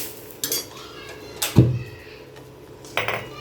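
Mango sweet pachadi being stirred in a pan, with a few sharp metal spoon clinks and scrapes against the pan spaced out over a quiet background.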